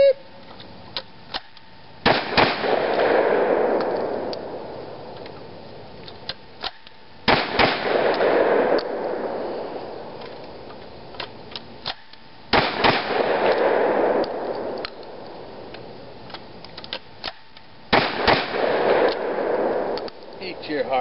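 A coach gun fires rounds during shooting practice, heard as four sharp, loud reports spaced about five seconds apart. Each report rings out and decays, with quieter handling clicks and a voice between shots.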